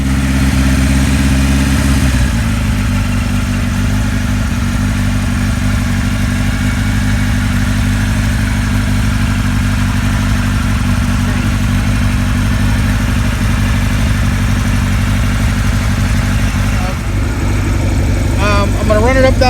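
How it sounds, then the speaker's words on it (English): A 1976 Kawasaki KZ900 motorcycle engine runs steadily at close range, loud and continuous with a deep, even idle throughout, a slight change in tone near the start and again near the end. "That motor sounds nice."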